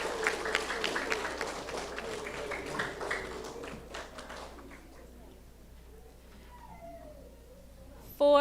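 Applause from an audience at a fourth-grade school awards ceremony, a crowd of clapping that fades out after a few seconds into quiet room sound with faint voices.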